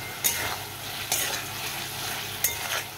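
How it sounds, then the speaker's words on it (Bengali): Vegetables and spices for a snakehead fish curry are stirred and sautéed in a pan, a steady close sizzle with three distinct scraping stirs spaced about a second apart. "দেখো সবগুলো একসঙ্গে আমি ভালো করে কষিয়ে নেবো।"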